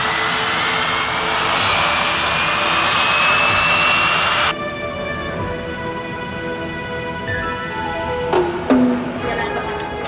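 A jet aircraft taxiing toward the runway gives a steady, loud engine whine with sustained high tones that drop in level partway through, then a couple of brief clunks near the end.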